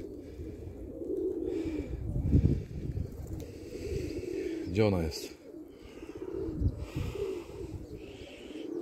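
Pigeons coo in a loft, soft repeated low calls alongside rustling and someone speaking in Polish close by.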